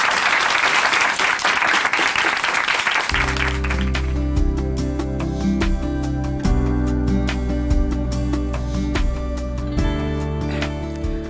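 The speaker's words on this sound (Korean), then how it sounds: "박수로 모십니다." Loud, dense audience applause fills a church broadcast studio for several seconds, then fades as steady music with a sustained low tone takes over beneath the last clapping.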